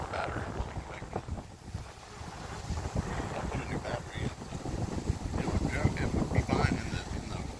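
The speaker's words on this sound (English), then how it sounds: "It's way too windy" Wind buffets the microphone at a lakeside park, producing continuous low rumbling gusts that swell and fade, with voices faintly mixed in.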